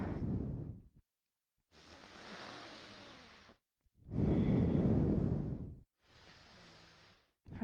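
Deep, slow breathing during a yoga class: two long, full inhales and exhales in alternation, close and fairly loud, with brief silent pauses between them and no talking.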